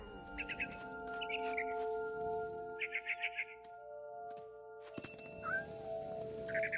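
Cat meows in a video game, several short mewing calls in bursts over steady background game tones and hum, moderately close.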